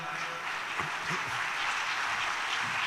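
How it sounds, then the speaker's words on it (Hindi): Audience applause at a housing handover ceremony where allotment letters and keys are presented, a steady close wash of clapping filling the whole few seconds with some faint voices mixed in. "तालियां"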